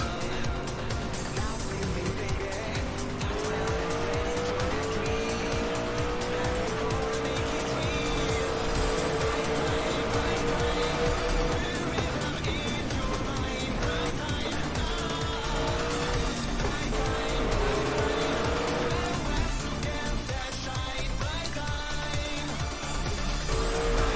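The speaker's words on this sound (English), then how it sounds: "Cars going around the corkscrew." Race cars in a racing video game sweep through the corkscrew at Laguna Seca, a steady blend of engine drone and tonal whine lasting throughout, with layered engines of several cars and a faint voice in the background.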